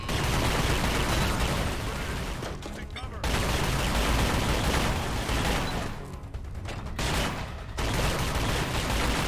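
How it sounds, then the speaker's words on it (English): Heavy gunfire in The Chronicles of Riddick: Escape from Butcher Bay, with loud sustained bursts and rapid volleys that fill most of the clip, broken by two brief lulls. "The guns are appropriately loud, hand-to-hand combat sounds meaty"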